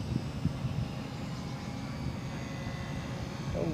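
An RC model airplane flies at a steady distance over an open field, its engine holding an even, continuous drone with no sharp changes in pitch or loudness.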